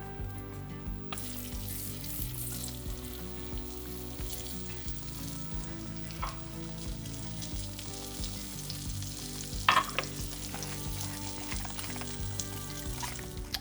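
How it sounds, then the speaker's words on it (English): Thick celeriac steaks frying in butter and oil on a hot plate give a steady, dense sizzle that runs throughout, with a brief sharper crackle near the middle and no voices. "we are going to cut it into nice thick steaks, basically fried in a little butter and oil, salt and pepper, fry it on the hot plate"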